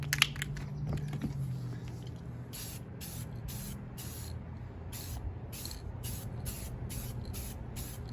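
Spray coating is applied to restored Honda TRX450 ATV A-arms outdoors in hot Arizona weather, heard as a run of short, repeated aerosol hisses of fairly even length against a low background rumble, with no talking.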